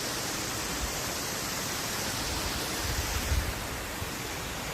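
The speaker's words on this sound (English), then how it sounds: "This is just a small waterfall" A small waterfall in Italy sends up a steady, even rush of falling water at moderate distance, with a faint rumble swelling briefly near the end and no voices.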